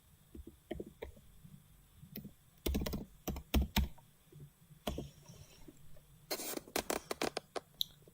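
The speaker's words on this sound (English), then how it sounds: "Just typing it in." Irregular clusters of soft clicky keystrokes on a computer keyboard during a coding session, close and quiet, with pauses between bursts and a faint steady background hum.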